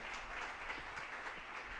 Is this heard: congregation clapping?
yes